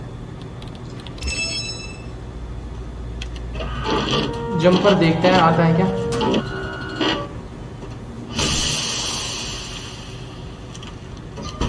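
A 3D printer in Watch Dogs 2 printing a jumper drone, a whirring, stepping mechanical run of a few seconds with beeping tones, while someone talks over the game.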